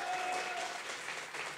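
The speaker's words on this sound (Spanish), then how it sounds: "Fuerte el aplauso, por favor." Brief applause from a comedy show audience, a soft, steady patter of many hands clapping, fairly faint and fading slightly toward the end.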